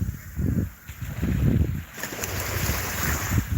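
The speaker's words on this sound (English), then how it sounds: "loves the sound of the waves" Ocean waves roll onto Fort Myers Beach in the morning, a loud, continuous wash of surf swelling and easing, with strong wind buffeting the microphone throughout.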